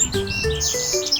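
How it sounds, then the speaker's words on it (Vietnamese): A nightingale sings a brief run of bright chirps and warbling notes, clear and close, with no voices. "Nightingale."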